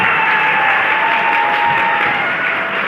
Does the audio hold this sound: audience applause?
yes